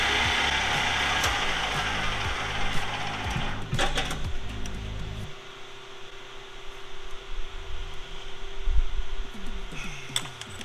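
A lathe cuts an irrigation valve part to length, giving a loud, continuous mechanical whir and hiss up close that drops to a quieter hum partway through, with occasional ticks and clunks.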